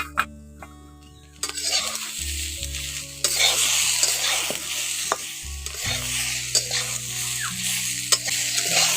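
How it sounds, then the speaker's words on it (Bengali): Drumstick stems frying in a pan with cumin and green chilli paste, loud steady sizzle with repeated stirring scrapes throughout, close by and without talk. "এখন জিরে কাঁচা লঙ্কা বাটাটা ওর সঙ্গে দিয়ে ভালো করে মিশিয়ে নেবো"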